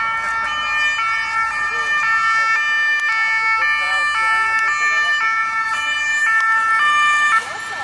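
An emergency vehicle siren wails loudly and nearby outside Les Invalides in Paris, its high tones cycling repeatedly in a steady two-tone pattern over street noise.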